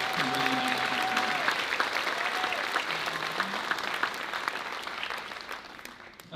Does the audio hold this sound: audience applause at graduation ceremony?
yes